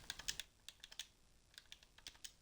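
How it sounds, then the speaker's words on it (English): Rapid typing on a computer keyboard, a quick, uneven burst of sharp clicks with short pauses between runs of keys, close and fairly quiet. "Typing fast."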